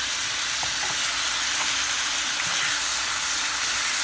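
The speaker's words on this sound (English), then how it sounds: "And then we all stir it together" Seasoned mixture with secret spices stirred in a hot pan, giving a steady, close sizzle and hiss with faint scraping all the way through.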